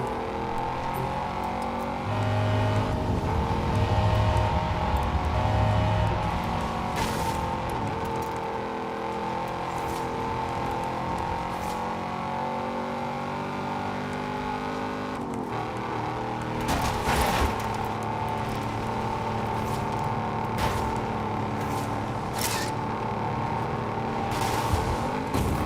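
Hoonigan Ford RS200 rally car driven in a racing video game, a continuous engine drone with shifting revs and a few sharp bursts, held steady throughout with no talking.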